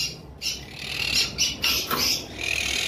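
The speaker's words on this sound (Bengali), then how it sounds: "এটা বন্ডিং পেয়ার পাখি।" A bonded pair of high-mutation lovebirds chatter close by in shrill squawks and quick chirps, a dense, continuous high-pitched twittering with no voices over it.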